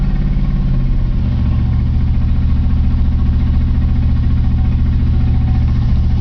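A 1987 Chevy truck with a 454 big block V8 idles steadily, a deep, loud, even rumble with a rapid low throb that holds constant throughout, close up and with no voices.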